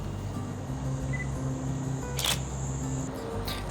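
Nikon D5200 camera shutter firing at a fast shutter speed while shooting a pool area, one sharp mechanical click near the middle and a second click close to the end, over a steady low ambient hum.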